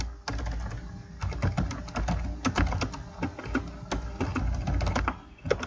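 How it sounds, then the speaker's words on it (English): Continuous typing on a computer keyboard, with quick irregular key clicks and occasional louder taps close to the mic in a quiet room. "now I can type in the subject"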